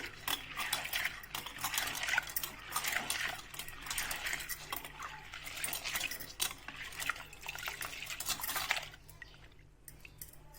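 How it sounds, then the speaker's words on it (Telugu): Grain being washed by hand in water in a bowl, a continuous wet sloshing and swishing with small clinks against the bowl for about nine seconds, then stopping into near quiet. "ఇట్లా మంచిగా రెండు మూడు సార్లు కడిగి"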